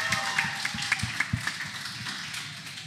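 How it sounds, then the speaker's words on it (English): Audience at a live podcast show in a brewery venue clapping, a scattered patter of individual hand claps in an irregular rhythm, fairly near and fading slightly toward the end. "give yourselves a massive round of applause"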